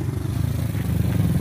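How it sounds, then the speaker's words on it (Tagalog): Motorcycle engine droning steadily nearby on a residential street, a continuous low mid-pitched rumble without clear rise or fade. "Tabi, may motor."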